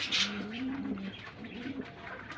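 A Lal Golla pigeon pair coos softly in a few low, rolling calls, close by in an otherwise quiet setting.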